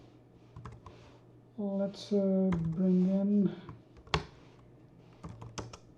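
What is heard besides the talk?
typing on a computer keyboard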